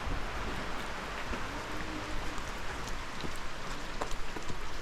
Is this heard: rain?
yes